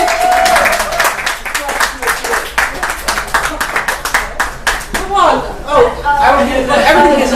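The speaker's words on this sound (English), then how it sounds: "Give a big warm cheer. Welcome to Nora Finch." An audience claps and cheers to welcome someone speaker at a Sacramento event, with dense, loud clapping throughout, some whoops and chatter toward the end.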